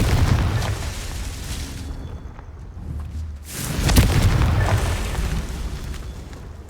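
Confringo spell blasts in Hogwarts Legacy land as heavy booming explosions, one big burst rising out of a dense rumbling mix of combat effects, loud and close, with no speech.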